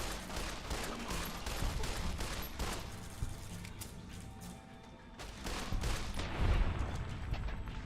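Repeated bursts of rifle fire from the All American rifle in the video game Fallout: New Vegas, with rapid shots in uneven clusters and a heavier barrage toward the end.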